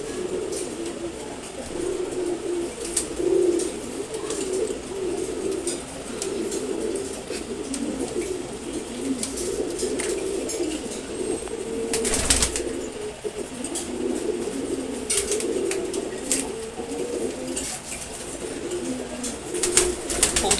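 Male pigeons, including a Macfee racer, cooing low and repeatedly close by, a continuous throaty murmur with occasional wing flutters and rustles.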